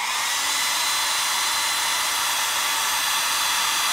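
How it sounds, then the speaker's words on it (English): A hairdryer runs continuously at full blast, blowing on a small wind turbine, a loud, even, breathy whir with no pauses or change in pitch. "So now I'll turn on the hairdryer."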